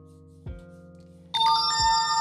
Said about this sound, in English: You could hear the notifications. It sounds really loud.